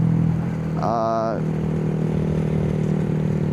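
A Honda Grom motorcycle engine drones steadily nearby, with a brief rising rev as it shifts through the gears, heard beneath a rider's talk.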